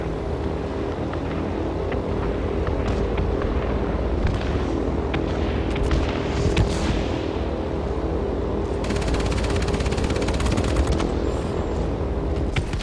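In World of Warplanes, the machine guns of a B-17G bomber fire at a Spitfire in long rattling bursts over a constant droning engine roar, dense and loud throughout, with a harsher crackling stretch near the end.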